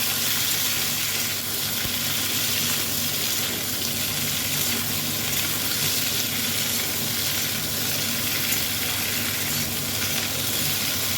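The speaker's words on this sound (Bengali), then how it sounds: "সব কিছু একসাথে বেশ ভালো করে একটু নাড়াচাড়া করে মিশিয়ে নেব" Pumpkin, yardlong beans and other vegetables for a Bengali chochhori being stirred and mixed in a hot pan, a loud continuous sizzle with scraping stir sounds throughout, no voices.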